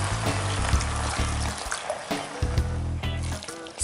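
Water pours into a cooking pot over ginger, garlic, chili peppers and star anise for a chashu pork braise, a steady close trickle with a low background hum and no voices.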